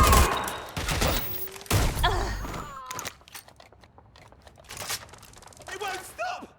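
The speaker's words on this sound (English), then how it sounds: "I'm taking fire!" Gunfire in the video game Watch Dogs Legion: a few loud, crunchy bursts of shots come near the start and again midway, with a voice talking among the quieter gaps.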